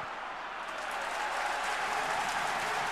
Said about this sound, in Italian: Esce lo Spezia tra gli applausi dei suoi tifosi.